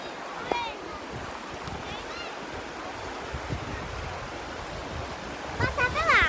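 A waterfall roars as a steady broadband rush close by, with people talking over it now and then, including a child.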